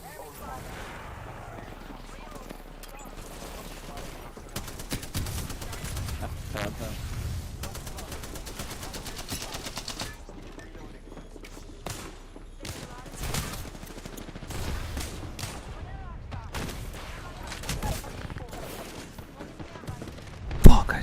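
Gunfire in a shooter video game crackles in repeated bursts of rapid shots, some near and sharp, others more distant. The bursts come between quieter stretches and end with one loud close blast.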